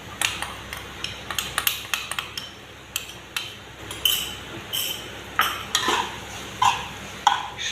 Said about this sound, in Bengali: সব একসঙ্গে নেড়ে চেড়ে মিশিয়ে দিচ্ছি।